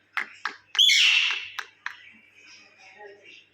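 A pet myna bird calls nearby with a few sharp clicks followed by a loud squawking whistle, then softer chattering notes trailing off.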